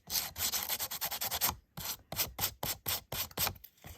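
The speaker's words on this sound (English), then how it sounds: "sanding block and sanding off that extra" A sanding block rubs quickly back and forth across a stamped holiday card, knocking off excess from the raised areas in a run of close, dry scraping strokes with brief pauses between bursts.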